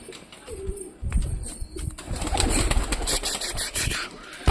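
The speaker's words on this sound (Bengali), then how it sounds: "এ শয়তান পায়রা একটু খেলো না প্লিজ একটু খেলো" Pigeons coo at close range in repeated soft, throaty calls, with a few wing flaps. Rustling and handling noises come and go in the background.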